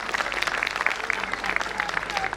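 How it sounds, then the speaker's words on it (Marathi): An audience at a mayor's award ceremony applauds, a dense burst of steady clapping from many hands filling the hall at moderate distance. "खरं तर किती जोरदार टाळ्या वाजायला हवेत मंडळी प्लीज."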